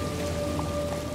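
Steady rain falling in the dark, waterlogged streets of The Sinking City, a dense continuous hiss with a faint tonal hum underneath, no voices.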